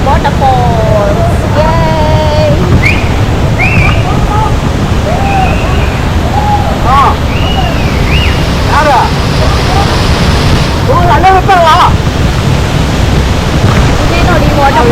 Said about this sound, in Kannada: ವಾಟರ್ ಫಾಲ್ಸ್ ಇಲ್ಲೇ ಬರ್ತಿದೆ ನೋಡಿ, ನಮ್ಮ ವಾಟರ್ ಫಾಲ್ಸ್